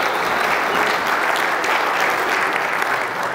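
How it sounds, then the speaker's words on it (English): An audience at a talk-series gathering claps in sustained, fairly loud applause, a dense even wash of hand claps lasting throughout without speech. "let's give these guys a round of applause"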